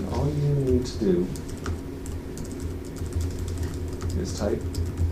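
Fingers type on a computer keyboard in a steady patter of light clicks, heard close under a person speaking.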